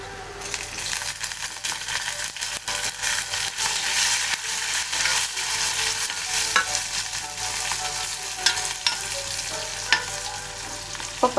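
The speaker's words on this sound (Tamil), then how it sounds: "இப்போ பச்சை மிளகாயும் வரமிளகாயும் நான் போட்டுட்டேன். போட்டு சும்மா 2 நிமிஷம் இப்படி வதக்குங்க" Green chillies and dried red chillies sauté in hot oil for a kolanji meal, giving a steady loud sizzle with frequent stirring scrapes and small metallic clicks throughout, and no voices.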